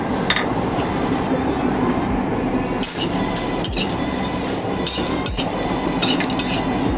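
Whole coriander seeds, dried red chillies, cardamom, cloves, cinnamon and mace dry-roast in a dry kadai. A spatula scrapes and clinks against the metal in regular strokes about every second over a soft, steady rustle.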